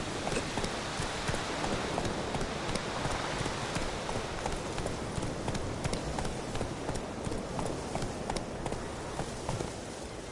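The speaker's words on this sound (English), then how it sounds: "Whoa there, Roach." A horse's hooves clip-clop steadily and rhythmically in The Witcher 3 video game, a continuous run of close thuds over a wash of game ambience.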